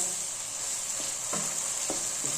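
Steady sizzling of minced meat frying in a hot pan with ginger and garlic, a constant hiss with a few soft stirring scrapes, no voices.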